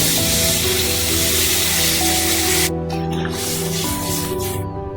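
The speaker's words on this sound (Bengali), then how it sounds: "এবার পরিমাণ মতো জল দিয়ে দেবো।" Water poured into a pan of frying vegetable curry with ridge gourd, a steady hissing, spraying sizzle that runs close and loud throughout, easing slightly after a few seconds.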